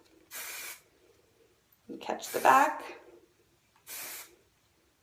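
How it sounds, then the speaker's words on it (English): Aveda Air Control hairspray sprayed onto hair in two short, close hissing bursts, one near the start and one near the end, with someone speaking briefly between them. "So I'm just going to spray and kind of pat."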